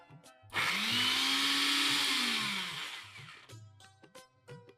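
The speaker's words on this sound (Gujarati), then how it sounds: "પહેલા આપણે બધા કાજુ પીસી લઈએ" A mixer grinder blends cashews with a little water into a paste, its loud, steady motor whir rising abruptly, holding for about two and a half seconds, then winding down to a stop, with quieter kitchen clatter around it.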